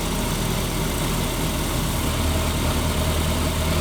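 Toyota 4Runner with a swapped 3RZ engine running in gear: a steady, loud, close engine drone with constant rumbling and no talking.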